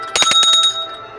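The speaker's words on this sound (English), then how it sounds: "when I do ring that bell, it's time to have wine and cheese" A small handheld bell is rung in a quick burst of about six close, bright strikes, loud and near, then a short ringing decay, with no voices.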